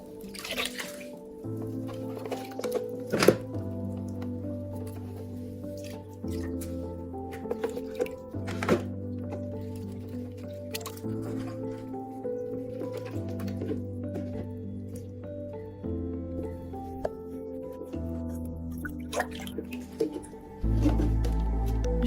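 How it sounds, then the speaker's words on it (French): Water stirred and poured over aquarium pump filter foams, soft drips and liquid squishes running faintly beneath steady background music. "Je remue l'eau restante et la verse avec le reste des mousses."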